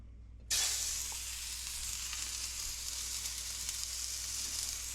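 Onion burger patties hitting a smoking-hot griddle: a sudden loud sizzle bursts in after a brief quiet moment, then holds as a steady close hiss with no one talking.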